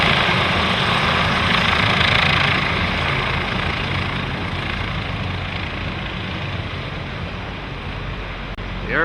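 A loud, steady roar from the engines of a C-133 aircraft echoing off a hangar, a broad rumbling wash that slowly fades, heard from a distance.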